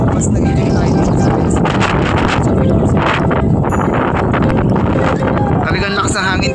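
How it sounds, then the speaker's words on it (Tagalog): Strong gusting wind buffets the microphone atop the highest mountain peak at People's Park in Tagaytay, a loud continuous roar with rumbling low-end that persists throughout, while people talk faintly underneath. "Kaya normal lang na malakas yung hangin."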